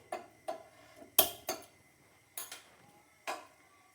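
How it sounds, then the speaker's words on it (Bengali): A metal karahi set down on a lit gas stove while cooking a spicy Bengali chicken curry, giving about six short, fairly faint clanks spread unevenly over a few seconds in an otherwise quiet kitchen. "কড়াইটা বসিয়ে দিলাম,"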